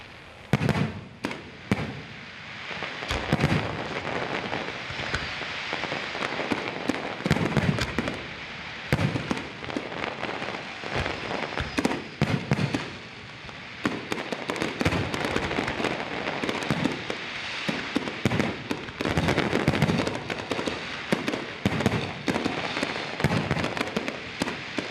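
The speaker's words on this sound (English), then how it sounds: "followed by the traditional fireworks display put on by the Guyana Defense Force" The Guyana Defence Force sets off a traditional fireworks display after a midnight flag raising, with dense, rapid bursts and crackles heard from a distance, rising and falling in intensity for the whole stretch.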